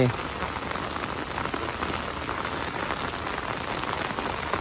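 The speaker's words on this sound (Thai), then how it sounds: "พอดีฝนตกมาใส่กับพี่น้อง เห็นไหมครับ ฝนตกมาใส่กับสิเด" Light drizzling rain falls steadily on a rural farm plot, a dense, even patter of drops on surfaces holding at a constant level throughout with no voices.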